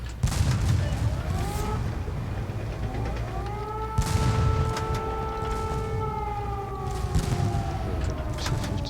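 Tank cannon fire in the WWII tank game Battle Tanks: Legends of WWII, heavy booming shots recurring over a steady engine rumble, with a rising siren-like whine running through much of the clip.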